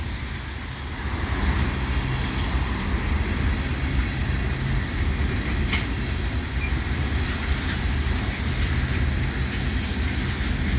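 A CPKC freight train hauling many shiny new tank cars rolls past at Adelaide Street in London, Ontario, a steady close rumble with faint wheel clatter throughout, no voices.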